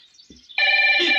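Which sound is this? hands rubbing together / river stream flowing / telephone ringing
telephone ringing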